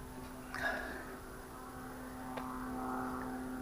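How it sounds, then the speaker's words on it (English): A distant aeroplane drones overhead as a faint, steady engine hum during brake repair work on a motorhome, with a couple of small clanks in the foreground. "Aeroplane's coming over."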